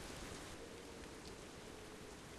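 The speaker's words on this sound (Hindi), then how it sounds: "रेन करा तो फिर रेन होगा," Rain weather in the game Simple Sandbox 2 makes a steady, even hiss of falling rain, dense and unbroken, fairly quiet, with no voices.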